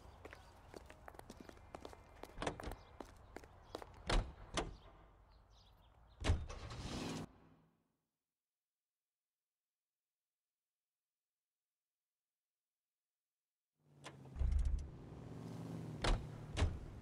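A car in the video game L.A. Noire, with engine and door or window sounds and clicks up close, then a long silence before the car sounds resume.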